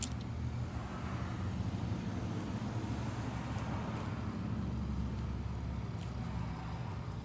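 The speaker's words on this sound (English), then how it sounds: "Sorry for the cars, I'm outside filming on my porch." Steady road traffic passes outside a porch, cars rumbling continuously at moderate distance in a low, even wash of noise with no distinct single pass-by standing out.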